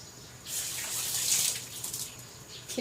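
Pork belly and bamboo shoot soup simmering in a pot, a steady watery bubbling and hiss that swells after a quiet start and holds for a few seconds, with no talk.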